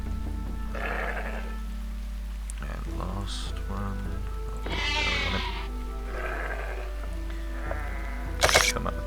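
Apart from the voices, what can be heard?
sheep bleating in video game Shroud of the Avatar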